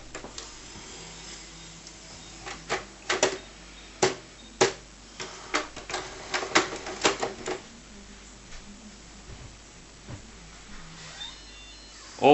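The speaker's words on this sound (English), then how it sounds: "The printer is going through its setup procedure." An Epson D1560 inkjet printer runs its setup procedure, giving a sequence of sharp mechanical clicks, ticks and clatters at uneven intervals over a low background hum, close by with no talking.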